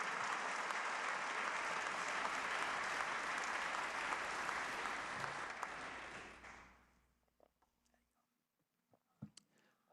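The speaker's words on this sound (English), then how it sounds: "Let's give him and all our small business a big round of applause for the work that they do each and every day." A large crowd applauds during a governor's State of the State address, a dense loud wash of clapping that holds for about six seconds, then fades quickly into near silence with a few scattered late claps and faint murmurs.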